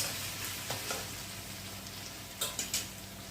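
Finely chopped onion fries in a pan for a biryani made with jackfruit. A steady, fairly loud sizzle runs throughout, and a few soft scraping stirs come through near the end.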